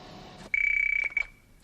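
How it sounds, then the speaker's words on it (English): A telephone gives a single short electronic ring, a steady bright tone lasting about half a second followed by a brief second burst, heard alone in a quiet room. "Ringing now."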